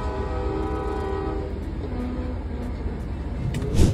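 A train passes with its horn sounding for the first second or so, followed by a steady rail rumble and clatter that swells near the end.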